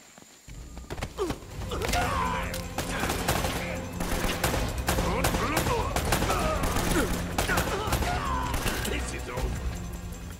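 Gunfire in Uncharted: Drake's Fortune, rapid overlapping shots and bursts ringing out close and loud in dense volleys across the whole stretch, with scattered game voices mixed in.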